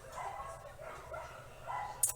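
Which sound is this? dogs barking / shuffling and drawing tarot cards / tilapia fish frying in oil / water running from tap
dogs barking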